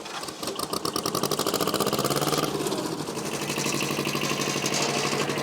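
A turbo diesel engine on a ripper machine runs steadily after being started, a loud, close, rough chugging with a rapid pulsing beat that holds through the whole stretch without pause.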